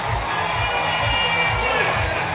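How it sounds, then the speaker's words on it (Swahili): A crowd at a high school academic day cheers and claps for a teacher, a dense, loud roar of applause with shouting voices mixed in throughout. "Wapi makofi ya mwalimu huyu?"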